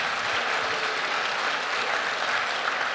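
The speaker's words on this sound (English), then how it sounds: "let's give our production team a round of applause for providing the live stream" An audience claps hard and steadily throughout, a dense, loud wash of applause from a crowd at a recovery meeting.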